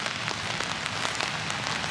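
Steady rain falls on a wet day in Pleasant Valley, St. Cloud, Florida, a close, dense patter of drops on surfaces that continues evenly throughout with no voices.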